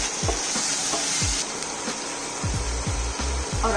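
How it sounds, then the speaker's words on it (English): Beef stir-frying in a pan for Korean japchae glass noodles, with a steady close sizzle and repeated scraping knocks of a spatula against the pan. "finally let's stir fry the beef"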